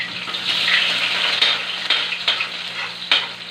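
Garlic, onion and ginger sautéed in a pan give a bright, continuous sizzle and hiss, close and steady, with a few soft stirring knocks and no talk.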